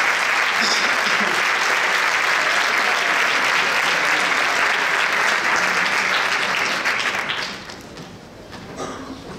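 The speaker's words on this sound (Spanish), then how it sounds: "Y ahora sí que os pediría un fuerte aplauso para nuestro alcalde Manuel Robles y para la compañera" Audience applause at a Christmas concert in a district theatre, a loud, dense roar of clapping held for about seven seconds before tapering off to scattered claps and room murmur.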